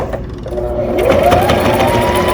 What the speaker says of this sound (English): We're going to sew all the way around the mask 2 times.